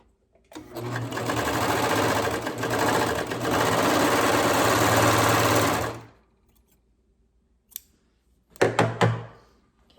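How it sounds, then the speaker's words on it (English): A serger stitches a fabric inseam in a steady, loud mechanical whir for several seconds, briefly easing off midway, then stops, followed by a single thunk and a short second burst of running. "I'm going to stitch that little inseam and serge it together"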